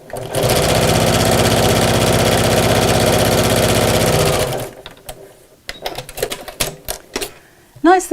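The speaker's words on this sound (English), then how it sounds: "I'm going to top stitch down both sides of each one of those pieces" A sewing machine top stitching down the sides of fabric bag pieces, running loud and steady in a fast mechanical chatter for about four seconds, then stopping, followed by softer handling noises and brief clicks.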